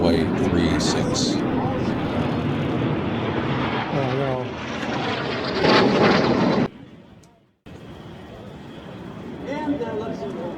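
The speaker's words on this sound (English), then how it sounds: "water was scooped from nearby Lake Winnebago to the east, and then dropped over the demonstration area along Airshow Center down runway 36" A Canadair CL-215 water bomber flies a fire attack demonstration at an airshow, its loud piston engine roar sweeping past nearby before a brief dropout. Commentary over a public address continues under the engine noise.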